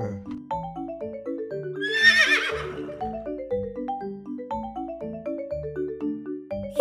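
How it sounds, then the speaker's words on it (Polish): A horse whinnies once, a loud rising-then-falling neigh set over a bouncy children's cartoon music track. "Koń rży."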